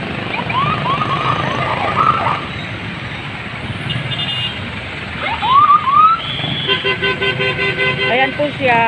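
Heavy road traffic in Baklaran, busy and loud with engines rumbling, horns tooting, and beeping signals layered over a constant roar, with a person talking in the midst of it.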